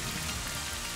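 Steady rain hiss from the Rain Dance move in the Pokemon Scarlet/Violet video game, a dense, even wash of patter filling the whole short stretch at low level with no voices.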